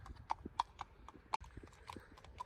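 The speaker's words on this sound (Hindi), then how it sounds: "लोग घोड़े चला रहे हैं" Horse hooves clip-clopping on a road in a UK setting, a steady run of sharp hoof strikes at a walking pace, fairly close, with a little background sound and no clear talk.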